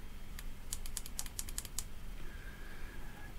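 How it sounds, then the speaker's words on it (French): Five quick clicks on a vape mod's fire button, crisp and close, pressed in an even rapid run, then a faint high electronic tone as the device switches on. "On clique 5 fois."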